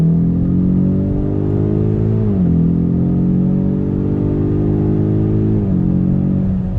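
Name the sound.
Ford Mustang EcoBoost HPP engine accelerating on throttle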